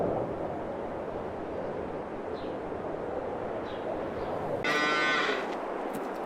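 Cows moo in the video game Farming Simulator 22, with a few faint calls from a distance over steady ambient farm noise, then a louder, harsher bellow near the end.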